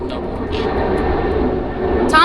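A fixed-wing airplane drones steadily overhead outdoors at a homeless camp on Guam, a continuous broad engine roar that swells toward the end, with people talking nearby.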